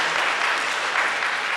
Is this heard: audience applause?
yes